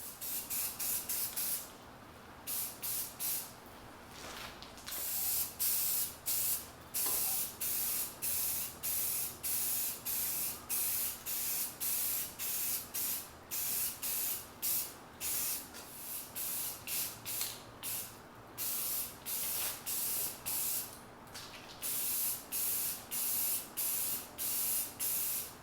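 Red primer spray-painted onto Coleman 335 lantern founts in a long series of short, close aerosol bursts, each a steady hiss with brief pauses between, no voices.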